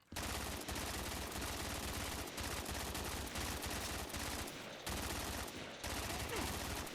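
A virtual RPK machine gun fires in a custom Black Ops 3 Zombies game, sustained loud rapid bursts broken by brief pauses, close and dominant over the scene.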